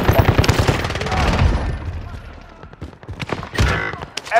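Rapid gunfire from a Call of Duty: Modern Warfare match, with sharp repeated shots and bursts that rise toward the end, mixed with game noise and some voice.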